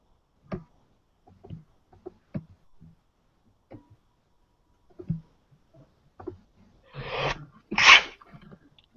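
A single loud sneeze bursts out near the end, preceded by a sharp intake of breath and scattered quiet clicks and small sounds around a tabletop game session.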